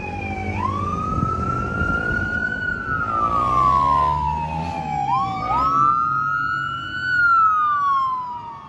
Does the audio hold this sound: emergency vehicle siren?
yes